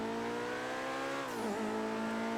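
A sports car engine in GTA 5 holds a steady, loud drone at high revs, then its pitch dips and recovers sharply as the revs shift, alone with no talk.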